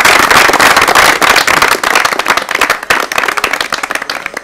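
A quiz show studio audience claps loudly and close, a dense burst of many hands that thins out gradually toward the end.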